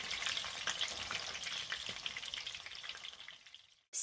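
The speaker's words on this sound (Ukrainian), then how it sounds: "Перевертаємо, робимо це акуратненько, гарно засмажилися і смажимо з другого боку" Eggplant rolls fry in a pan with loud, even sizzling, a steady crackling hiss that fades slightly before cutting off abruptly near the end.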